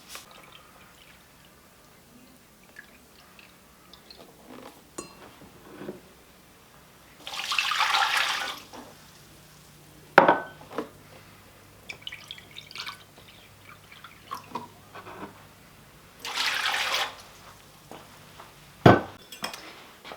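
Apple juice is poured into a big kitchen pot holding kosher salt, heard as two separate gushing pours, close and moderately loud, broken up by clinks and knocks of cookware in an otherwise quiet room.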